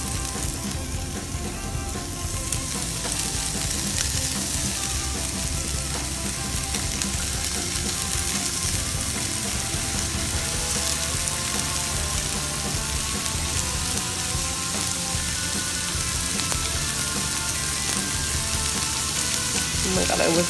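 Vegan sausage frying in a hot pan, a loud, dense, continuous sizzle and crackle heard close up and unbroken, with no talking over it.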